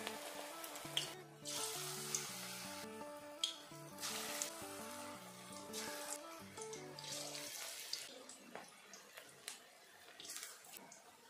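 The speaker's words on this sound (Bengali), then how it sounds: "কড়াইর তেলটা গরম করে নিয়েছি, এবার আমি ভেজে নেব।" Pakoras frying in hot oil in a kadai over a low flame, a continuous close crackling sizzle with tonal background sounds layered over it.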